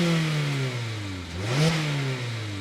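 A 2022 Mazda MX-5 Miata sports car revs through its twin tailpipes, the exhaust note dipping and then climbing in a single close, loud rev with no talk.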